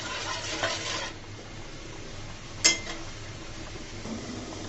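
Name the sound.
stirring mango peel jelly in a pan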